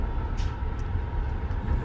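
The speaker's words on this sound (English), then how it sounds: "Train's leaving." Trans-Siberian Express passenger train pulling out of the station on its way to Yekaterinburg, a steady low rumble with faint squeaks and clanks throughout, heard alone without talk.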